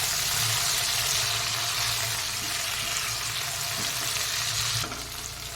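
Onion, a medium tomato and three green chillies frying in oil in a pan for a Katla fish curry, a loud continuous sizzle close up with occasional soft scrapes of stirring, dropping slightly near the end.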